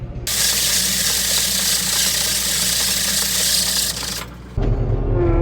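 A farm tractor's engine runs loud and steady in high gear on the way to the road, its broadband roar holding for about four seconds, dipping briefly, then returning with a lower, rougher rumble.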